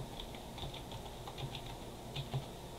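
Quiet, steady keystrokes on a computer keyboard as a password is entered, a soft patter of individual key taps over low background hiss, with no voices.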